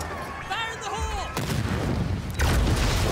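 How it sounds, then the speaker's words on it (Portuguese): Gunfire from a submachine gun in the co-op dinosaur shooter Second Extinction, with bursts and booms from a fight against a Tyrannosaurus rex, loud and continuous, while a voice briefly calls out over the first part. "essa submetralhadora é boa, cara"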